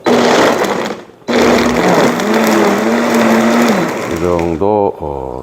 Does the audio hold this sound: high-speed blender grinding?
yes